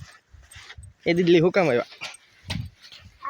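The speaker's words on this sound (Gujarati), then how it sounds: "એક કૂતરું બેઠું છે." A dog sitting by the sea at Hathab Bungalow lets out two close, drawn-out whining yelps in quick succession, with people chatting before and after.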